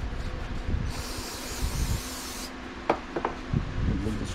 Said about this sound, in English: Put this carburetor cleaner on here. Go ahead and clean this off while we're going.